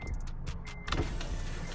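Power window on an Acura TSX Sport Wagon with a newly replaced switch: several short switch clicks and brief motor whirs, then a longer steady motor hum as the glass moves, close and fairly quiet.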